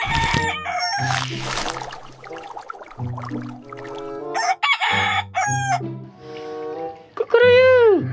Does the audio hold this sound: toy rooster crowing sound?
yes